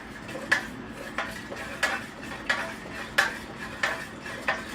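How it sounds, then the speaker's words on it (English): Hot wax scented with lemongrass essential oil is stirred in a container. Evenly spaced utensil clinks strike against the vessel about every half second, over a soft background hiss, with no talking. "we're just going to stir."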